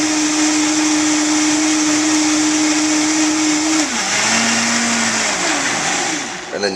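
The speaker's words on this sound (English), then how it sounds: "you should have like a good blender for this if you're going to do this every day" A Vita-Mix blender runs a smoothie at high speed with a loud, steady whir, then its motor pitch drops as it is slowed and switched off near the end.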